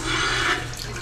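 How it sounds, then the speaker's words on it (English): Water pours steadily from a bathroom tap in a hotel room in Angeles City, a close, brief rushing hiss with no talk. "Plenty of water comes out of that thing."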